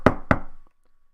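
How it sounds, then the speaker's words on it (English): Two firm, sharp knocks on a door, close and loud, about a quarter second apart, followed by near silence. "I'm gonna go ahead and knock on the door and see what's up"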